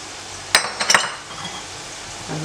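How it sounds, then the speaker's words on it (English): Eggs and buttermilk mixed in a bowl for homemade chicken nuggets: a few quick clinks of a utensil against the bowl, then soft wet stirring, with no talk. "And I'm going to mix everything together."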